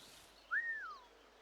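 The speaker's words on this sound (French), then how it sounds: "Eh, tu as entendu quelqu'un siffler?" Within a video game, a single short rising-then-falling whistle sounds once, clear but fairly quiet against a faint background.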